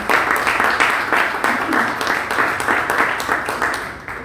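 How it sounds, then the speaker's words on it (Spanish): Loud, close audience applause for an official at a public forum on the search for disappeared persons, brisk overlapping claps with a few louder individual hands, fading slightly toward the end. "les pido un aplauso para nuestra autoridad"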